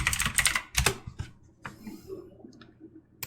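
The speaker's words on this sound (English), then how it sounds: "So what I can do is I can literally just type in infinite right here." Typing on a computer keyboard comes as a quick burst of close clicks, then a few scattered keystrokes tapering off into quiet.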